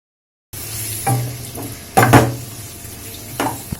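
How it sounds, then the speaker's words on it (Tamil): After a brief silence, prawns, chicken and mutton, about 100 grams each, fry in a pan for mixed fried rice under a low sizzle, punctuated by several sharp metallic clinks and scrapes of a stirring spoon. "நல்லா ஃப்ரை பண்ணிக்கோங்க"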